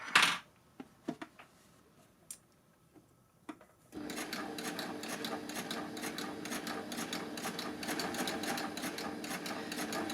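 A Baby Lock overlock machine stitching a blind hem starts after a few scattered clicks and handling noises, then runs as a steady, fast mechanical whir that holds at an even level to the end.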